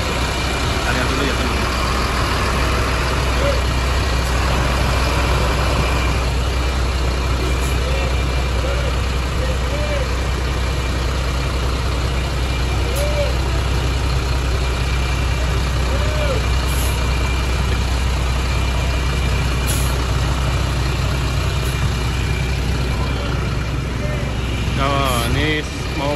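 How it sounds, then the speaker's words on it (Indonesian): A Kemang Pratama tour bus idles at the busy Guci bus terminal with a steady, loud low engine rumble throughout. Occasional air hisses and voices sound around it. "Ini ada bus Kemang Pratama, nggak tahu mau keluar apa mau parkir."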